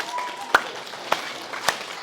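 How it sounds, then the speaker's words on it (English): Three sharp, evenly spaced claps from a group at an elementary school award ceremony, faint over a quiet room, tracing a square of applause. "And a square of applause."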